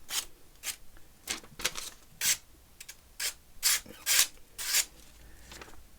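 A blade being sharpened on sandpaper gives a series of short rasping strokes, roughly a dozen in an irregular back-and-forth rhythm, close and fairly quiet with brief pauses between passes.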